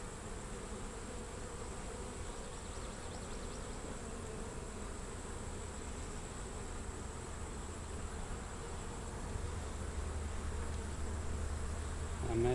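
Dense, steady buzzing of honeybees from an opened hive suspected to be queenless, close and continuous throughout with no talk, growing slightly louder toward the end.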